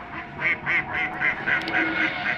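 Ducks on a duck farm quack over and over in a quick, steady rhythm, close and fairly loud, with a busy hum of flock noise underneath.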